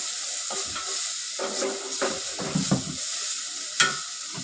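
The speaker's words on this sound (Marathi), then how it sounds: "थोडंसं परतून घेतलं हे बघा परतून घेतलं" Vegetables for a ragi-flour veg paratha sauté in a hot pan, with a steady soft sizzle and a few scraping stirs and light clinks over it.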